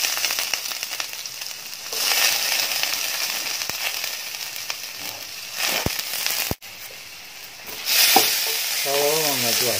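Two onions fry in coconut oil in a cheenachatti pan, giving a continuous close sizzle broken by scraping stirs and a few sharp clicks and pops.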